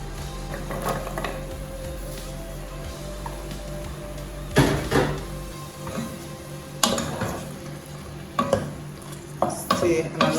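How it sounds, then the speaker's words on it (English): Carrots stirred into a pot of tomato sauce: a spoon scraping and clinking against the pot in irregular bursts, close by, with a soft sizzle underneath. "Okay, I'll add my carrots"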